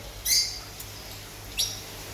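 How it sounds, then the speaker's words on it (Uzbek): Two short, high chirps from a small lovebird, one early and one later, over faint background hum. "Пока что mana неразлучниклар."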